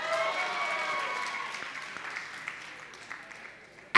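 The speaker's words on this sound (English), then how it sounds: "Give a round of applause." Studio audience applause after an actor is told she got the role, steady clapping that tapers off over a few seconds, with a sharp bump at the very end.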